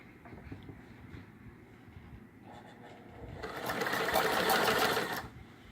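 A Singer 128 sewing machine runs fine stitches, first a soft steady clatter, then a faster, louder whirring burst for a couple of seconds before it stops, heard up close.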